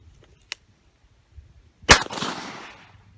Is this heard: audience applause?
no